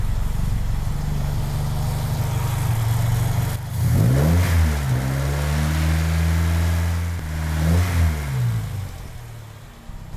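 A Honda Civic Genio engine idling low while cold, then revved twice by hand, each rise a sweeping climb in pitch before settling back, close and steady.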